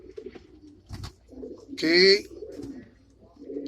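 Racing pigeons coo in a loft: low burbling coos come close by, and one louder coo rises mid-clip while someone speaks briefly.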